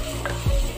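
Masala frying in a pot for a spicy fish curry, stirred with a spoon: brief scraping strokes over a steady sizzle, close and loud.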